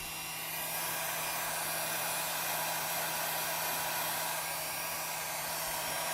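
A heat gun blows hot air onto cosplay foam to shape detailing, giving a steady, loud, unbroken whooshing drone close by that continues alone for several seconds.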